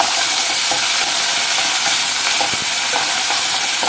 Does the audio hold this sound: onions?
yes